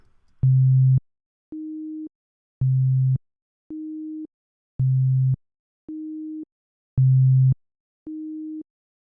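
Two alternating electronic tones repeat four times each, played with no compression: a louder low note, then a quieter higher note, evenly spaced with silence between.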